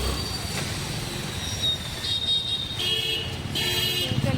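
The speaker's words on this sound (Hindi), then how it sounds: "पीछे गाड़ी है।" A road vehicle passes close behind on a street outside a doctor's clinic, heard as a steady, moderately loud traffic rumble with a brief higher whine partway through and no talking.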